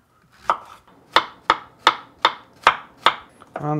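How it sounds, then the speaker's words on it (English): Kitchen knife chopping zucchini into very small pieces on a board, seven sharp, evenly spaced strikes about every half second, close and clear with no voices. "now we can cut some zucchini"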